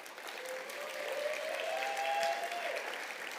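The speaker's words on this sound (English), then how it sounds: "Give her a big round of applause, please." Applause from an audience at a startup showcase, steady continuous clapping at moderate volume that swells slightly before easing, with a faint tonal whine underneath.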